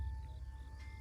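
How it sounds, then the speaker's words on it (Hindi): Crickets chirping outside at night as a story sound effect, a faint, steady tonal trill sustained throughout with a soft low hum beneath and no voices. "बाहर से झींगुरों के बोलने की आवाज़ आ रही थी"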